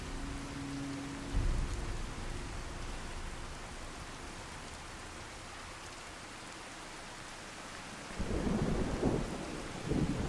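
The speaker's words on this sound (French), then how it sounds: "Oh, sous la pluie." Rain and rumbling thunder from the game Fallout 4: a steady wash of rainfall runs throughout, with low thunder rolls swelling near the start and again toward the end.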